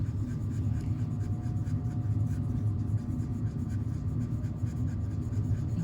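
Continuous scratchy rubbing of a marker being dragged across paper while drawing dragon scales, close up and steady, with no voices.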